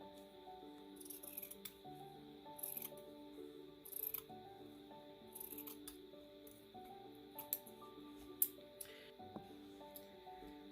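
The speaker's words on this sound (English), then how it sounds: "So what you would do is you would trim your seam allowance in half." Scissors snip through a fabric seam allowance in a few quiet, separate cuts, set against steady background music.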